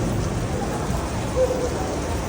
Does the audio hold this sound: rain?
yes